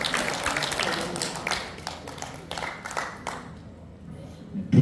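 An audience at a Korean closing ceremony claps as a speaker is welcomed to the stage, a dense spread of applause that thins and fades out, with a voice speaking over it.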